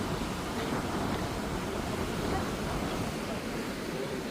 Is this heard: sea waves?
yes